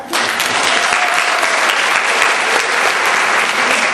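A comedy show crowd bursts into loud, dense applause that starts abruptly and holds steady as a full wash of clapping, close and continuous throughout.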